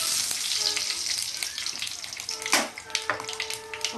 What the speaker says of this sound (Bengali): পাঁচ ফোড়নটা আমি দিয়ে দেবো, তেজপাতাটাও দিয়ে দেবো।